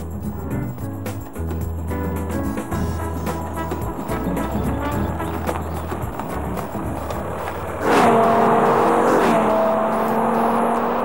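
BMW M5 engine revving above 6000 rpm and accelerating, a steady rising drone through most of the run that grows noticeably louder and brighter near the end, with no talk.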